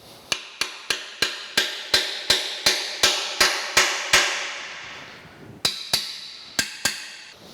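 A hammer strikes a 3/4 inch transfer punch seated in a hole of a metal plate during metal planer restoration work, about fourteen sharp ringing blows in a steady rhythm with a short pause before the last few, close and loud.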